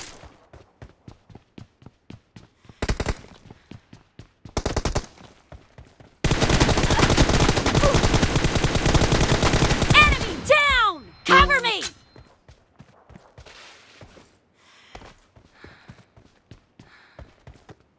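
Gunfire from a team video game match: short bursts and a long sustained automatic volley, mixed with rapid footstep-like ticks and quieter gaps, close and loud.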